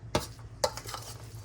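Rotisserie chicken salad gets mixed in a bowl, making two quick wet scraping strokes in close succession, fairly close and quiet.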